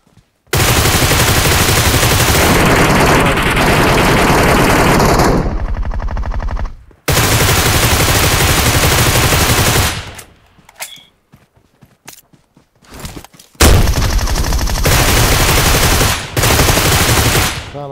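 Bursts of automatic gunfire in the Metro Royale shooter game, loud and close, arriving in long sustained volleys broken by short gaps and a few scattered single shots.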